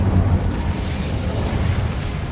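The Incendio fire spell is cast in Hogwarts Legacy, a rushing, crackling burst of flame with a low rumbling body that holds steady and loud throughout without any speech.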